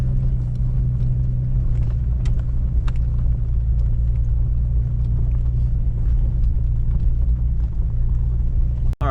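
A stock Jeep Cherokee XJ crawls slowly over rocks off-road, its engine a loud, steady low rumble throughout with faint knocks and a sharp clunk near the end.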